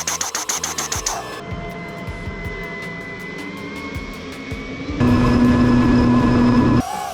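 A DIY radio-controlled A-10 Warthog model plane flies with a steady electric motor whine, a few sharp pops of darts firing early on, then a louder, higher-pitched surge of the motor near the end.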